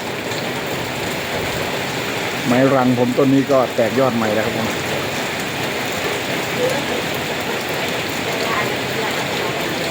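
Steady rain falling outside a house in Nakhon Phanom during a sudden storm, a dense continuous hiss throughout, with someone speaking briefly over it.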